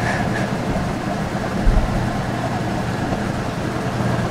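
An old-school top-loading washing machine, not a high-efficiency model, runs with a loud, steady churning rumble and a single heavier clunk partway through, with no voices.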